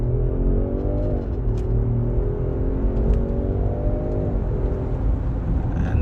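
A 2024 Range Rover Sport P510e plug-in hybrid accelerating hard, its engine note rising steadily in pitch, dipping briefly at a gear change, then climbing again as a loud continuous drone with road rumble beneath.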